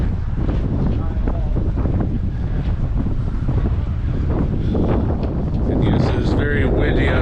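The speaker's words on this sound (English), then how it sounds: "Very windy outside, maybe because I'm 400 feet above the city" Strong wind buffets the microphone outdoors on a high overlook about 400 feet above Pittsburgh, a steady low rumbling roar that continues throughout, with faint voices and other noises mixed in toward the end.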